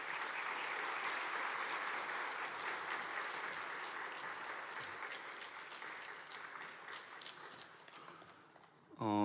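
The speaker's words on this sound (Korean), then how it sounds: "권호 교수님 나오실 때 한번 큰 박수로 환영하겠습니다." A church congregation at an anniversary service gives sustained, fairly distant applause welcoming a guest speaker, fading slightly near the end before a voice begins.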